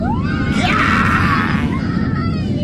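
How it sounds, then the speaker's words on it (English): Passengers aboard a Delta flight let out shrill, overlapping screams and squeals over a loud, constant rumble of cabin noise. "if you listen to the screeches and the squeals, people were screaming for Jesus in there"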